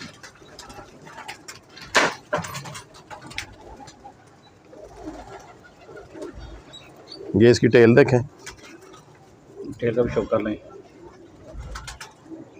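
Pigeons coo in two short, throaty bursts close by, between stretches of someone talking and faint background clatter.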